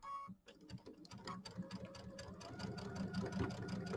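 A sewing machine stitches a Kimberbell mini quilt in a quick, rapid run of mechanical needle strokes that speeds up into a dense, continuous chatter, close and clear.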